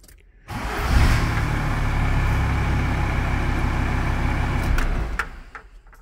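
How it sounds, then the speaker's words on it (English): A VW T4 Transporter van engine cranks and catches on the first turn of the key, then idles with a steady, low, rumbling drone for about four seconds before cutting off, close by. "Starts first turn of the key."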